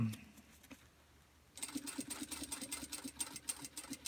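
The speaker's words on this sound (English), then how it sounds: "you're going to sew across the strap to this edge and stop with your needle down" A sewing machine stitching along the edge of a bag runs in a quiet, steady rapid chatter after a near-silent start, faint and close.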